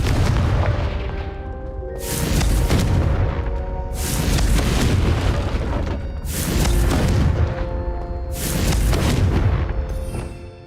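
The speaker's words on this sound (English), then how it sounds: "I suspect a bit more time practicing the blasting curse is in order." Repeated Confringo blasting-curse explosions from the Hogwarts Legacy video game, four loud booming bursts about two seconds apart, each with a long rumbling decay over steady background game sound.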